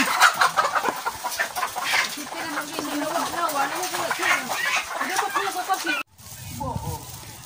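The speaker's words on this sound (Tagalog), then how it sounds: "Isang manukan na paitlugan. Paitlugan. Nangingitlog." Chickens cluck steadily and close by inside an egg-laying poultry house of small hens' cages, with someone talking over the flock before the sound cuts to a quieter stretch near the end.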